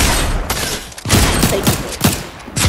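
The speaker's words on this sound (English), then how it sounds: "It's a heavy sniper." A heavy sniper rifle in Fortnite fires several sharp, loud shots in quick succession, each with a cracking burst close to the listener.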